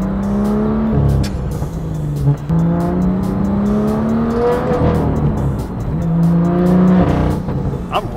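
A car engine revs hard through several manual gear changes, its loud close tone climbing steadily and then dropping sharply at each shift before pulling up again, with no talking.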